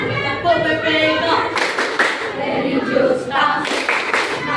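A group performs a rhythmic clapping chant at a school character-education event, steady close claps repeating in a patterned beat with voices chanting along throughout.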